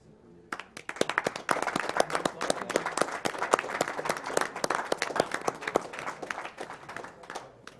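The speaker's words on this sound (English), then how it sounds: "Can we get a quick round of applause for those guys?" Audience applause at a live video game speedrun marathon event, a dense crowd clapping steadily with scattered cheers for nearly eight seconds, starting abruptly and fading slightly at the end.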